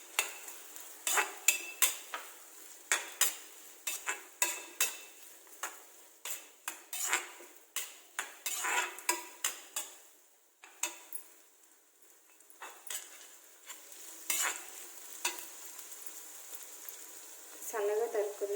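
Vegetables stir-fried for millet fried rice in a pan over medium-high flame, with repeated sharp clatters of a utensil against the pan in an irregular rhythm, a quieter stretch midway, then more scraping and knocks.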